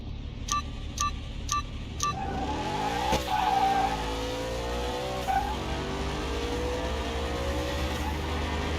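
A Dodge Viper V10 race car in Car Mechanic Simulator 2021 blips its engine four times, then revs up with a squeal of tires and holds a loud, steady, droning pull through the gears.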